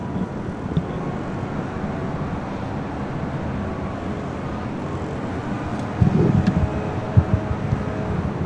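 A Boeing 747 taxiing at LAX at night gives a steady low rumbling jet drone under wind noise, with a brief louder swell near the end.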